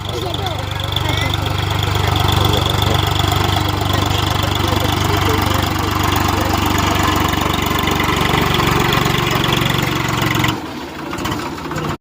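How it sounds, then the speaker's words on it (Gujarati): A tractor engine runs loud and steady on a farm field during maize sowing, with a continuous low mechanical drone close by. It cuts off abruptly near the end. "સામેથી ટ્રેક્ટર આવે છે મિત્રો"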